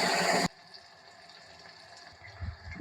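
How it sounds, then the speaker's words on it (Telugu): Thinly sliced onions frying in a pan of oil for a black-eyed pea curry: a loud burst of sizzling at first, then a faint, steady hiss of frying. "ఆనియన్స్‌ని ఫ్రై అవ్వనిద్దాం."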